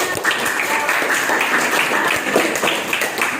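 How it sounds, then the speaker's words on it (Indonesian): A sociology class applauds together in a classroom, with steady, dense clapping from many students held at a fairly loud level throughout. "tepuk tangan semuanya"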